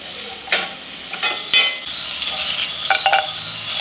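Turmeric powder being stirred into an amla rice mixture, with close scraping spoon strokes against the pot and a faint sizzle in the background, no voices.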